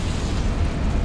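A Confringo fire spell explodes in the Hogwarts Legacy video game, a heavy, booming blast that rumbles low and loud for about a second with no talk over it.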